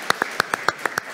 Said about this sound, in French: Applaudissements pour Anne Boucher, notaire ici